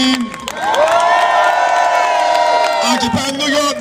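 An Occupy London protest crowd screams and cheers loudly for several seconds. A long sustained roar rises and then tails off, with shouts poking out of the noise.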